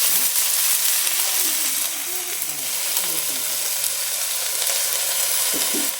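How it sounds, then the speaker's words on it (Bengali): Sour spinach leaves fry in a hot wok with a constant, close, crackling sizzle, while a voice talks faintly in the background. "তো কড়াইয়ের মধ্যে দিয়ে দিলাম এগুলা"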